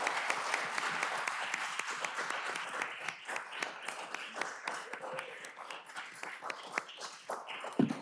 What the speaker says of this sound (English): would you give a round of applause to our candidate?